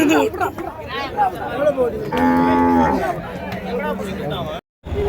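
Bulls lowing and mooing at the Uthangarai cattle market amid a busy crowd, with people chattering close by and a long loud moo in the middle.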